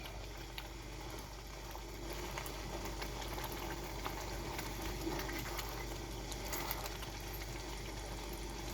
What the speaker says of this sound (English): And as this bubbles gently away